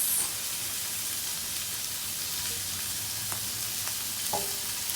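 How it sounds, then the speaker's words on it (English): Prawns and scallops frying in a pot, a steady close hiss and sizzle with a few faint clicks as they are flipped, and no talking. "So just flip those prawns and the scallops."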